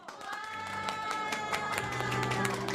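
A group of teenage friends at a multicultural youth camp clap for a classmate, giving a brief burst of scattered handclaps over background music.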